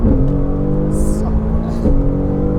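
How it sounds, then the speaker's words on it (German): Mercedes-AMG GT R accelerating hard on a wet race track, a steady loud engine drone heard from inside the car, with brief hissy bursts over it. "im dritten Gang voll ausgedreht, da hat er noch da drehen noch die Hinterräder durch"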